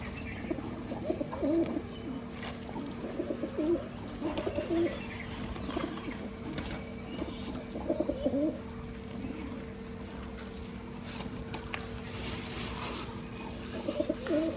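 Pigeons coo repeatedly in low rolling bursts while feeding on scattered wheat, several birds calling close together over a steady background hum, with little talk.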